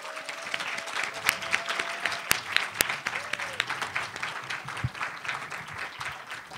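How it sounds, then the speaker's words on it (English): Audience applause for pitching groups at a nanotechnology innovation competition, steady moderate clapping from a room of people with a few sharper individual claps standing out. "I want to have every group get one more round of applause"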